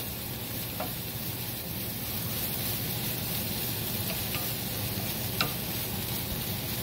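Marlin a la Mexicana sizzles steadily in a pan as it is spread out evenly, a continuous close frying hiss with a few faint ticks and no talking.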